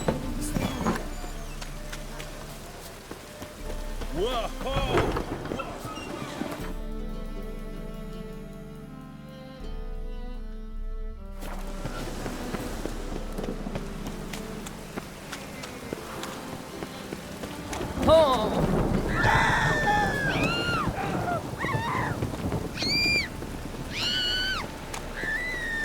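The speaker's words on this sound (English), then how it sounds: "It just rains. Damn it, I'll be late. A storm, damn it." Rain falls steadily in a storm in The Witcher 3 video game, a soft continuous patter with music and other game sounds layered over it, growing busier toward the end.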